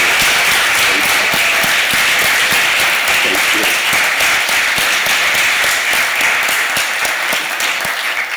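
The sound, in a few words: audience applause for Manthia Diawara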